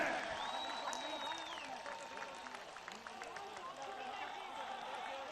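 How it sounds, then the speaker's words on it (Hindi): A large outdoor political rally crowd applauding in a dense, continuous wash of clapping and cheering, while an amplified voice speaks over it and a brief whistle-like tone rises early on. "जरा हाथ उठा के तालियों की गूंज में बताइए इमरान खान से"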